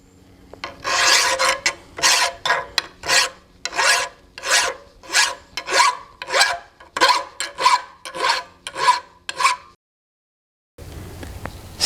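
A file rasps across the peen face of a steel hammer in about fourteen steady, evenly spaced strokes, each a bright scraping pass, then a pause and faint rustling.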